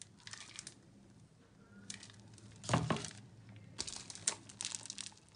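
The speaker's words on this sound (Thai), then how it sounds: "ใส่ถุงพลาสติกอย่าให้มีลมนะ" A plastic bag crinkles and rustles in short bursts as fermented pork bones are packed and the air pressed out, close and fairly quiet with pauses between handlings.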